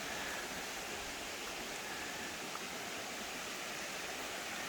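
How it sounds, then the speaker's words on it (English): A creek flows near Crooked Creek Falls at a dispersed campsite, giving a constant, even rushing hiss of water. It runs steadily throughout at moderate volume, with no voices. "Creek just keeps going on up, and as you go on down you hit Crooked Creek Falls"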